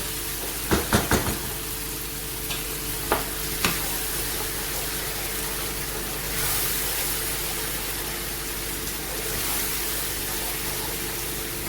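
Okra and potatoes sizzle steadily in a pan over full heat, with a few sharp clanks and scrapes of a spoon stirring early on, then a constant frying hiss with no talking.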